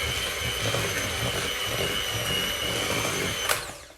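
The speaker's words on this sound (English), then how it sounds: "you hear the mixer again for a minute" An electric hand mixer beats Viennese biscuit mixture in a steady, loud motor whine that runs unbroken for about three and a half seconds, then a brief knock as it winds down and fades.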